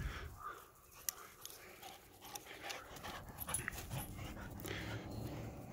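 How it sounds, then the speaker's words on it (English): Dogs playing outdoors pant, whimper and yip at close range, soft and scattered over a faint background hiss. "I'm going to let the dogs run their little energy off as much as possible"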